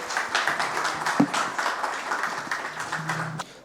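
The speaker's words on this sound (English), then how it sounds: "Just a round of applause for them." An audience claps in a steady round of applause, with scattered voices mixed in near the end.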